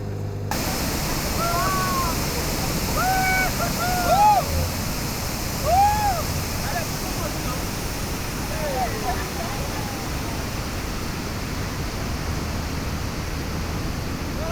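Lobe Falls, a waterfall plunging straight into the sea, gives a steady, loud, broadband rushing roar that continues throughout, with scattered chirping bird calls rising above it in the first half.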